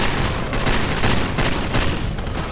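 Gunfire in the video game Far Cry 2, a dense, continuous fusillade of overlapping shots that stays loud and steady throughout, with no voices over it.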